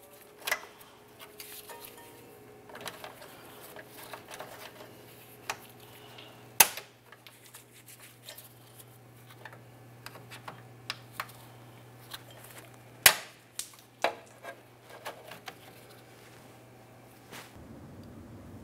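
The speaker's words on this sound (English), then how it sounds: "We'll just use some long nose cutters and trim this right off." Long nose cutters snip a plastic locking piece off a spare tire hoist on a 2000-2006 Chevy Tahoe, giving scattered small clicks and two sharp snaps over a steady low hum.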